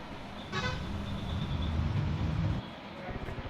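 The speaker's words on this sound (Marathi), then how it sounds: "आली गाडी" Video game car arriving and sounding its horn, a single short toot followed by a low engine rumble for about two seconds, with players talking faintly.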